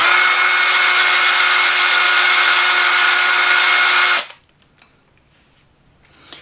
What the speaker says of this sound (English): what I'm using is a sanding disc in a Makita drill and just taking off a little bit at a time.